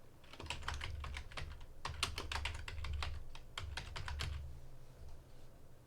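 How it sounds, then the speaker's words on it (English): Steady bursts of computer keyboard typing, close and clear, as text is entered while editing a title in PowerDirector; keystrokes come in quick irregular runs with brief pauses, no voices. "I type in something else."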